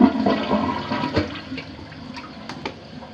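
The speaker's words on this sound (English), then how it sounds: "Are you going to flush for us again?" A toilet flushes inside a Fort Worth home with a loud initial whoosh. Gurgling water swirls and then fades as the tank begins to refill.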